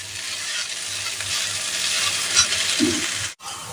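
Pumpkin greens sizzle and fry in a pan while being stirred, a steady close crackling hiss with faint scraping, briefly cut off near the end.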